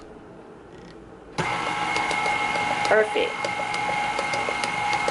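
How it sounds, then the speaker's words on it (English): A KitchenAid stand mixer beating cake batter for a Kentucky butter cake starts abruptly and runs as a steady, loud mechanical whir with a slight rise in pitch midway, with a brief spoken word over it. "I let the mixer do the rest of it."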